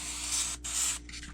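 Airbrush spraying paint onto a custom bluegill-pattern fishing lure at about 20 psi, a close, steady hiss in two short bursts separated by a brief pause, with no talking.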